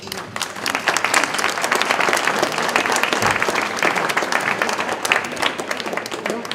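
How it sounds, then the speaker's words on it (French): A gallery audience at an exhibition opening in Aubrac gives sustained, dense applause, many hands clapping steadily at close range with faint crowd murmur. "je vous demande de l'applaudir"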